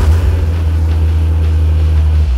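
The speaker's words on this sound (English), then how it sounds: "how about we hear how it sounds, because it just sounds great. Go ahead and start it up." The engine of a 1997 Chevrolet Corvette C5 Mongoose rumbles loudly at a deep, steady idle right after starting, a strong low drone close to the microphone.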